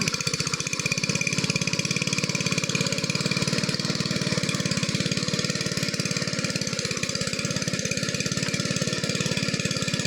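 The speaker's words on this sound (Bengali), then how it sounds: "ইঞ্জিনের আওয়াজ পাল্টা দিচ্ছে" A power tiller's small engine chugs steadily with a fast, even rhythm, running loud and close without pause while ploughing a field.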